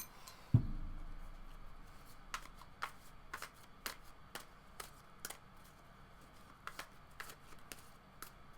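Tarot cards riffled and shuffled by hand close up, a soft thump followed by a quiet steady series of crisp flicks and snaps spaced about half a second apart, with no talking.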